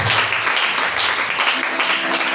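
A church congregation applauds and cheers in praise during a French-language sermon, a dense, steady wash of clapping from a large crowd filling the whole stretch without pause.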